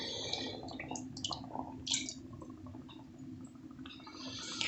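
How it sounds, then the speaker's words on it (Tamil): Water is poured into a pot of simmering fish curry, made to go with kappa. It comes through as a soft, intermittent trickle and drip, faint and close, over a steady low hum. "இப்போ இந்த தண்ணி கொஞ்சம் ஊற்றிக்கலாம்."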